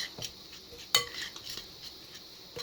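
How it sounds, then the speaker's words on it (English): A utensil stirring a turkey cheese mixture with vinegar in a metal pot, with scattered clinks and scrapes and one sharp metallic knock, close and fairly quiet. "We'll stir all this together"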